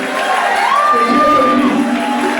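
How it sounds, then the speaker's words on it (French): Church congregation cheering and acclaiming during a worship service after a healing, a loud dense crowd roar with whoops and shouts sustained throughout. "Acclamez pour le Seigneur"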